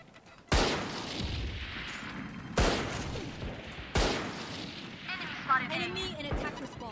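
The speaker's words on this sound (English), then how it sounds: "Grenade." Three sharp, heavy blasts from a video game grenade, well spaced and booming, with reverberant rumble trailing each one. Game voice lines and electronic chirps sound between them.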